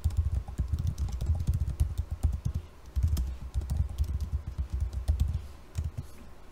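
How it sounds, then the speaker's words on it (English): Steady typing on a computer keyboard, a close, continuous patter of key clicks with brief pauses and no talking. "Under the name menu, type in a title."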